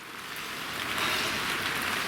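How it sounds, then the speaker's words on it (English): Steady rain falls on an outdoor allotment plot in November, a continuous soft hiss that swells slightly, with no voices. "The rain has gone through my coat now."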